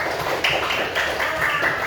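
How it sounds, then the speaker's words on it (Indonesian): Students in a classroom applaud together, a steady dense patter of many hands clapping at close range, with no voices over it. "Ibu minta tepuk tangan buat kita semua."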